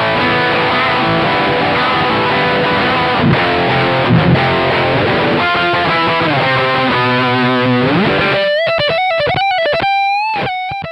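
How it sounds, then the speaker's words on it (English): Loud, heavily distorted electric guitar through a Peavey 6505+ 112 combo lead channel, with a thick high-gain lead tone, playing chugging riffs and then sustained single notes. "Switching to the lead channel from the front panel or optional foot switch unleashes the full classic high gain tones"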